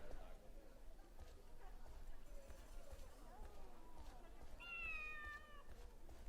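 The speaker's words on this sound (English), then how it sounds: "Very loud cat in my right ear." A cat in the Shenmue 3 video game gives one clear meow near the end, over quiet in-game ambience with faint background chatter.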